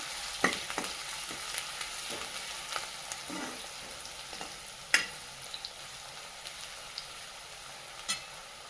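Onion and garlic fry in a pan for pithla, a Maharashtrian gram-flour dish, with a steady close sizzle broken by a few sharp stirring clicks and scrapes, and no talking.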